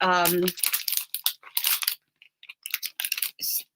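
Card stock being cut into pieces with a scalloped contours die, heard as brief crinkling, crunching bursts with short pauses between them after a voice at the start.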